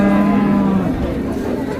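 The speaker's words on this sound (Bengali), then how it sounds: "এ পাশে তিনটা বাছুর আছে পালন উপযোগী" A calf at a village cattle market gives a loud, close, drawn-out low in the first second, followed by background market noise and faint chatter.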